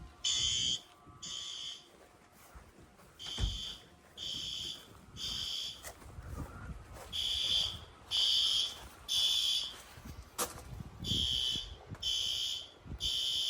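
A building fire alarm sounds during a routine August test, blaring in repeated bursts of shrill electronic tone separated by short gaps, with faint ambient noise and occasional thumps between pulses.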